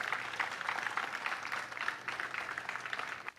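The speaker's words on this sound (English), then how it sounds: "Let us all give them a resounding round of applause" An audience at Cebu International Airport applauds the crew of the Spanish ship Juan Sebastián de Elcano, a continuous wash of many hands clapping, fairly distant and even, dipping briefly near the end.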